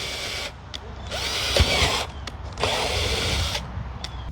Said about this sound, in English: So let me go ahead and drill some of these holes.